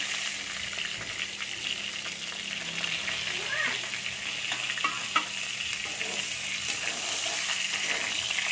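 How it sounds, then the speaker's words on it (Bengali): Pointed gourd (potol) frying in hot oil, a steady close sizzle with occasional crackles and stirring scrapes, with no talk over it. "দেখুন, আমি এবার পটলগুলোকে দিয়ে দিচ্ছি তেলেতে।"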